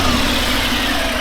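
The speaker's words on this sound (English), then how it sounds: "rated based off of the stock exhaust sound" A Harley-Davidson motorcycle with stock exhaust idles steadily with a buzzy, even exhaust rumble, loud and close, unchanging throughout.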